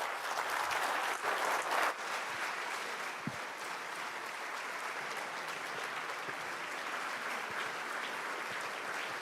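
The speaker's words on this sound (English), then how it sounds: "A well-deserving round of applause, please." An audience at a youth leadership debate grand finale in Nigeria claps in a steady, sustained round of applause, with no voices standing out.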